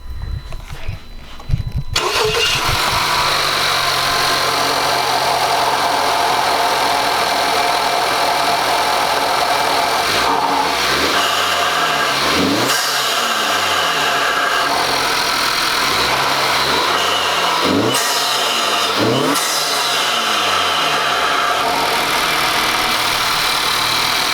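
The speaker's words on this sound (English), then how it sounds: "we're going to get a sound clip of the intake after it's been installed" A 2018 Honda Accord 2.0T turbo engine with a K&N aftermarket air intake starts up and settles into a steady, loud idle with a broad rushing roar, a few revs swelling and falling partway through.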